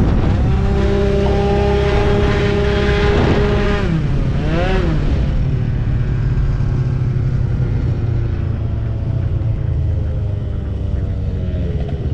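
A tuned car pulls away from a standing start, its engine droning loudly and steadily with rising and falling harmonic tones as it accelerates and shifts, a continuous close rumble throughout with no talking.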